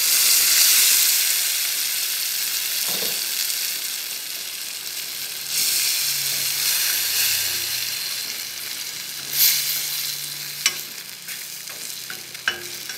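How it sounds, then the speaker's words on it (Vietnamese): Spicy corn and quail eggs are stir-fried in a pan, giving a steady, close sizzle with scraping spatula strokes and a few sharp clinks toward the end, with no one talking. "Em sẽ xào cho tới khi nào mà nó còn sền sệt là được ạ."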